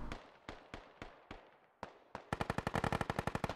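Gunfire in the Squad video game: several single shots spaced about half a second apart, then a rapid sustained automatic burst, loud and close with no talking.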